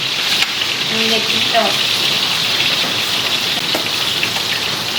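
Steady rain falling outside during winter, a continuous hiss heard from indoors with a few faint tonal sounds near the start.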